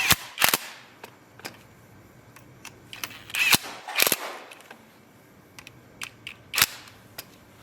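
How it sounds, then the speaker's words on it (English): An electric wrench fires short, sharp bursts while tightening M8 bolts into a motorcycle's lower triple clamp, in irregular clicks and rattles with quiet gaps between them. "tighten them with an electric wrench"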